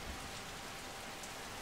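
Steady rain in Metal Gear Solid 3: Snake Eater, a dense, even hiss of falling drops that stays at one level throughout, with no voices over it.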